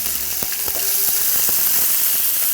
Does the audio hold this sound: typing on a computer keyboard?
no